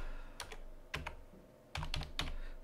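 Typing on a computer keyboard while writing programming code, heard as a few short bursts of key clicks with pauses between them, close and fairly quiet, with no talking.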